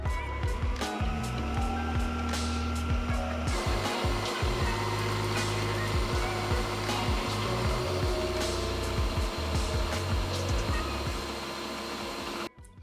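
A blender grinds sunflower seeds into seed butter, running as a loud motor drone with repeated knocking and thumping as the thick mixture churns, then cutting off abruptly at the end.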